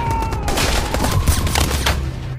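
Dense, continuous gunfire: rapid overlapping shots and bursts crackling throughout, loud and close, like a heavy indoor shootout.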